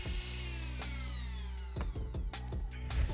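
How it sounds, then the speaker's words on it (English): A high-pitched Dremel rotary tool with a metal bit whines steadily, then grinds against sneaker rubber with short scraping bursts toward the end. "I'm just gonna be using a Dremel with a metal drill bit to shave it all off."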